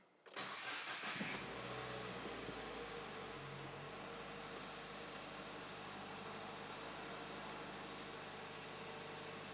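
A 2019 Subaru WRX engine cranks and catches in the first second after an oil change, then settles into a steady, loud idle that continues without talk.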